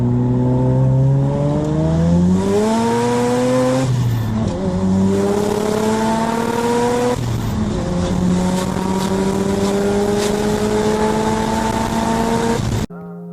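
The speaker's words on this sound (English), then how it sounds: "it just sounds amazing. Take a listen to this RX-7 right here." A Mazda RX-7 rotary engine revs hard through several rising pitch sweeps as the car accelerates and shifts, loud and close, ending abruptly.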